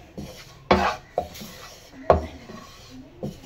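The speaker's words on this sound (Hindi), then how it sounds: "अच्छी तरह से भूनेंगे बेसन को।" Besan is stirred and scraped while it roasts in ghee in a pan over low heat, with several sharp scraping strokes and clinks at an irregular rhythm, close and moderately loud, and no talking.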